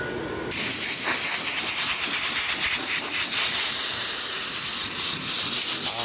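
Compressed air blasts steadily onto a car part being dried after rinsing during POR15 prep, a loud continuous hissing rush that starts abruptly and holds without pause.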